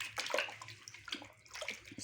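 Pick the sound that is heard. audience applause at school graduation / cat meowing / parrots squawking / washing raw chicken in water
washing raw chicken in water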